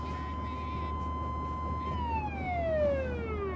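A police car siren close by, a steady wail that then sweeps downward in pitch as it passes, over a low rumble of traffic.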